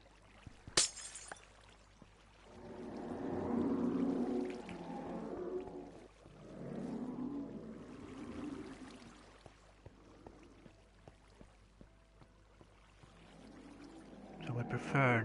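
Water flows and pours in the Minecraft video game on PS4 at an ocean monument guardian farm, a swelling rush that rises and fades in waves, with a person talking over it.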